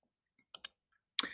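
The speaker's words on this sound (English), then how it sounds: "click on the ellipsis here, and then click on Pin to Top" Computer mouse buttons click twice in quick succession, faint and close, followed by a third sharper click in an otherwise quiet room.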